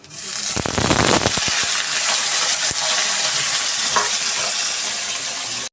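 Potatoes tipped into a hot pan with dried and green chillies, bursting into loud sizzling frying with a few sharp crackles and spatula taps at the start, then a steady close hiss throughout.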